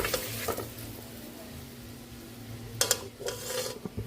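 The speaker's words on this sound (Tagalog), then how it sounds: "Nagisa na yung ating chicken." Chicken sautéing in a pot of oil for tinola, with a quiet sizzle and brief scraping stirs of a utensil against the pot, near and moderately soft, with no voices.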